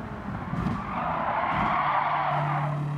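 Car braking hard and skidding in Gran Turismo 7, a sustained tire squeal building over a steady engine drone, loud and close for about three seconds with no talk.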